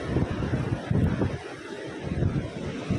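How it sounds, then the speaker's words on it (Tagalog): Strong wind roars and buffets the microphone at the seaside in Kamisu, Ibaraki, a steady low rumble that surges in gusts, with surf from the nearby sea washing beneath it and no talk. "May wind pa dyan, oh guys, may wind pa."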